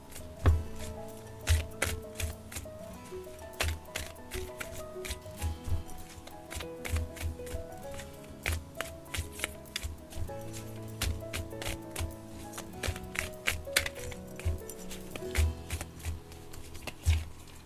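Tarot cards are shuffled and handled with repeated crisp flicking and riffling taps close by, in an irregular steady rhythm with no talk.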